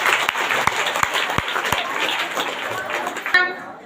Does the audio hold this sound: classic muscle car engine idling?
no